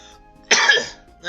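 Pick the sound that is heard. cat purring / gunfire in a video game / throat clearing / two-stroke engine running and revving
throat clearing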